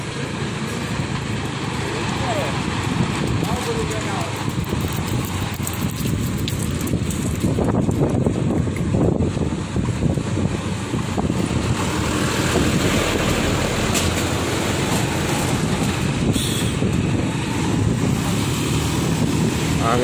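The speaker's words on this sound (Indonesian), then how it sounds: "Angin lesus." Strong gusting winds from a whirlwind (puting beliung) roar continuously across a village in Jenggawah, Jember, with heavy buffeting on the microphone and a voice speaking in the middle of it.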